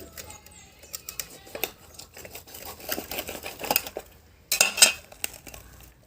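A knife cutting through the breast bone of a country chicken being cleaned for curry, heard as a series of sharp cracks and clicks of varied loudness, with a louder burst of crunching near the end.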